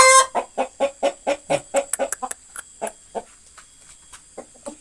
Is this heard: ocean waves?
no